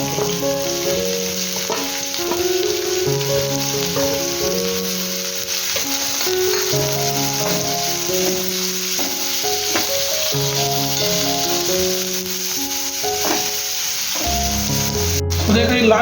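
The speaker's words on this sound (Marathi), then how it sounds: "इथे आता टाकणार आहे मिरची आणि कांदा" Chili and onion sizzle in hot oil for a vegetable dish, a steady broadband hiss running throughout beneath continuous background music.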